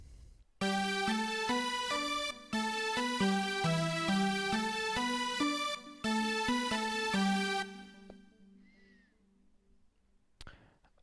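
Layered synthesizer patch, a distorted synth over a keyboard synth, plays a loud, steady chordal passage with changing sustained notes, then falls away near the end, leaving a faint tail.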